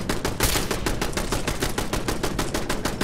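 Turret gunfire in Fallout 4: a loud, unbroken stream of rapid automatic shots hammering steadily at close range, with no talking.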